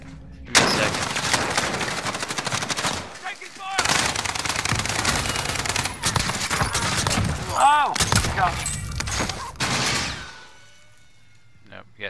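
Heavy video game gunfire with rapid automatic bursts and sniper shots, loud and close, broken by short pauses and a descending whistle-like effect, with players talking over it.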